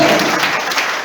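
A church congregation applauding during a Spanish-language sermon, a steady wash of many hands clapping together, loud and continuous throughout.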